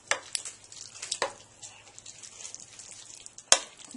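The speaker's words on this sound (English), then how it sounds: "So now I'm just going to give this a stir." A spoon stirs a pot of vegetarian chili with beans, making a few soft scraping strokes against the pot, quiet and spaced apart, with no voices.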